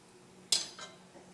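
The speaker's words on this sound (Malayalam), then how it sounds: "നമുക്ക് പൊടിക്കാൻ വേണ്ടിയിട്ട് ജാറിലേക്ക് ഇടാം." Fried asafoetida pieces dropped into a steel mixer grinder jar, a single sharp metallic clink followed by a softer rattle, close and brief in a quiet kitchen.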